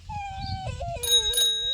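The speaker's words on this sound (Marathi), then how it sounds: "अयो घंटी." A child's bicycle bell rings twice in quick bright dings over a child's whimpering, wavering voice and a low background rumble.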